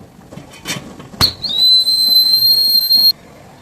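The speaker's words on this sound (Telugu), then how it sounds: "4 విజిల్ అయితే రానివ్వండి." A pressure cooker cooking junnu milk pudding lets off one loud, shrill whistle of steam, sustained for about two seconds, after a few soft clinks and a sharp knock.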